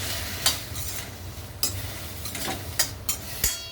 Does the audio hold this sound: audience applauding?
no